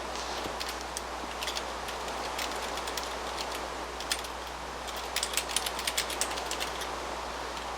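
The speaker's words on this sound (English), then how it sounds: "Man, it's raining a lot around here." Rain falls in a rainforest in the Lowcraft video game, a soft, steady hiss with scattered light pattering drops throughout, fairly quiet and with no talking.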